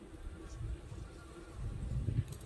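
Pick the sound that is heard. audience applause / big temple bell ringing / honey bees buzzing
honey bees buzzing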